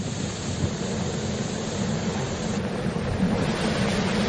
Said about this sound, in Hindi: समंदर में अब जो है लहरें उठने लगी है